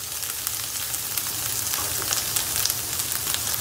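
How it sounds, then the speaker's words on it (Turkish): Chopped onion and tomato paste fry in a pan for a zucchini dish, giving a steady, close crackling sizzle with scattered small pops and no talk. "Domates salçasını da güzelce bir kavuracağız."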